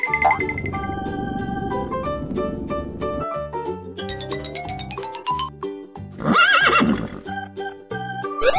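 A cartoon horse whinnies over bright, plinking children's music, with a loud, long neigh near the end that stands out above the melody.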